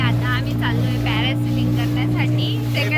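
A motorboat hums steadily with a low engine drone at Malvan beach as it arrives for parasailing, heard close under continuous talking.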